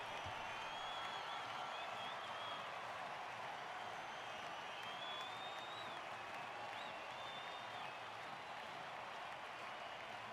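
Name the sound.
applause in a video game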